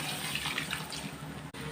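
Water pours from a tap into goat intestine gravy cooking in a pan, a steady rushing flow lasting the whole short stretch with one brief break near the end.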